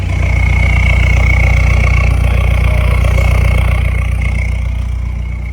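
A Toyota Hiace KZH106 van engine with its EGR deleted idles loudly and steadily up close, a low rumbling thrum with a faint whine above it, the exhaust exiting at the side.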